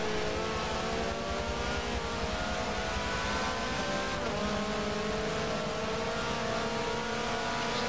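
Touring race cars lapping in a BTCC race at Hockenheim in a racing video game, several engines droning and shifting pitch together, loud and continuous throughout with no talking.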